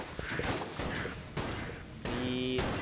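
Explosions and gunfire from the boss fight against Gatling Gull in the video game Enter the Gungeon, a run of sharp bursts and thuds ending in a louder sustained blast with ringing tones, close and continuous.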